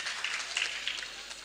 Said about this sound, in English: Hand clap for...